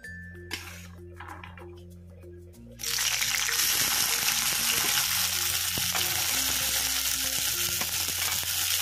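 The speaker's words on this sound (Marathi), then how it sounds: "हा जो घेवडा आहे हा आधी आपण परतून घेणार आहोत" French beans (ghevda) hit hot oil in a pan partway through, switching quiet background music and light clinks to a loud steady sizzle with occasional utensil taps, music continuing underneath.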